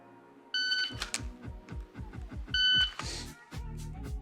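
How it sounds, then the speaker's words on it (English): A shot timer used for dry-fire shooting practice gives two short, shrill electronic beeps about two seconds apart, with sharp clicks and taps around them. "I was talking and it beeped. I forgot I hit the buzzer."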